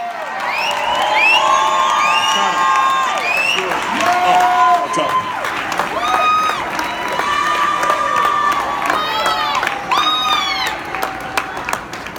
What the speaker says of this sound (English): You should be clapping much louder than that.